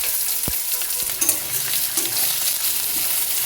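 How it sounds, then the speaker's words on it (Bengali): Chopped onions frying in hot oil with dried red chillies and black cumin in a pan, a steady close sizzle with occasional stirring scrapes and a light knock. "পেঁয়াজটা ভেজে নিচ্ছি।"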